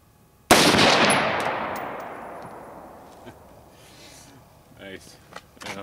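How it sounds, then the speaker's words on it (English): A single loud, sharp AR-15 rifle shot, fired one-handed at a pop can outdoors, cracks close by and rings off into a long fading echo, followed by faint voices and small handling noises. "I'm going to shoot it with an AR-15 standing and see if it comes out on camera."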